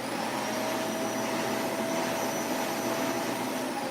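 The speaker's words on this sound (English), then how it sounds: "I'm gonna go to vacuum, turn the vacuum on, and then the machine." A vacuum cleaner hooked to a carpet-shearing setup runs continuously with a steady, even roar and a faint high whine, unchanging throughout with no voices.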